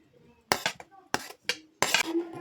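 Grated carrot tipped into a bowl of curd mixture for a vegetable dish, giving a few sharp clinks and scrapes of a spoon against the bowl in four separate bursts, close and fairly loud, with no talking.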